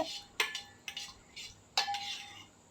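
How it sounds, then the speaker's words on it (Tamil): A spoon stirs vitamin E capsule oil into a homemade hair oil mix, making several sharp metallic clinks and scrapes against the container, close and quiet, with brief pauses between strokes. "இப்போ வந்து நல்லா கலந்து எடுத்துக்கோங்க"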